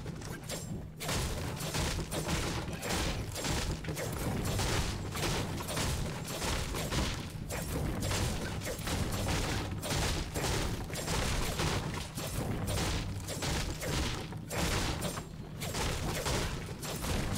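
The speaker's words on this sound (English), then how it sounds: "I hear gunshots." Rapid bursts of Fortnite gunfire crackle continuously, with sharp repeated shots and thuds forming a dense, ongoing volley.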